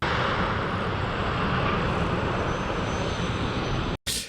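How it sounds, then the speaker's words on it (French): Jet airliner landing in the TV series Pluribus, a steady loud broadband roar of engines and rushing air that holds constant before cutting off abruptly near the end. "Un atterrissage sans problème"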